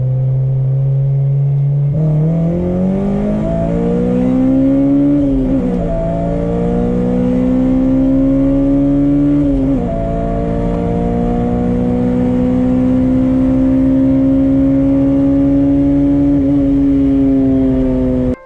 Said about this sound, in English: So there's the pull that we did. The car pulls really strong up top.